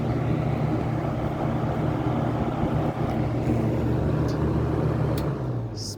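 A GE Frigid 20-inch box fan, model BF-3, runs on high, giving a steady, loud broadband whoosh with a low motor hum throughout, beginning to ease off right at the end.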